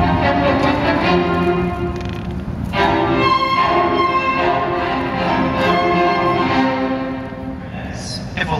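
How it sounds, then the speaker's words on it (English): A string quartet of two violins, a viola and a cello plays Beethoven's Serioso Quartet, opus 95, in a large concert room, a dense, loud, continuous passage of bowed strings with no talking. "a string quartet, which only includes 2 violins, 1 viola, and 1 cello."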